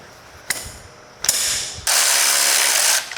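A ratchet wrench loosens a bell housing bolt during a car clutch job, with a few sharp clicking bursts followed by a longer, steady ratcheting run, close and loud.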